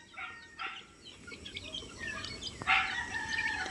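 Chickens clucking and calling close by on a farm in the rain, with a rooster's crow rising near the end over a steady farmyard background.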